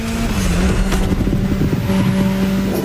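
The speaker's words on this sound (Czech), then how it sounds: "Pokaždé, když vyprázdníte dusík, tak uslyšíte burácení motoru, které spíše připomíná hřmění hromů." A roaring car engine surges after a nitro boost in the racing game The Crew Motorfest, a thunder-like rumble with steady revving tones holding loud and close throughout.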